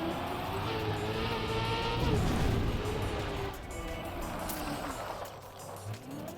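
A racing car in the video game Trackmania revs steadily, then brakes and slides with a broad scraping surge midway before the engine drone resumes, loud and continuous throughout.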